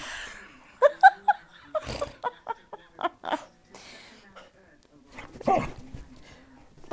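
An overtired dog barks and whimpers in short, uneven yips and whines at bedtime indoors near a couch, with someone talking and laughing between the sounds.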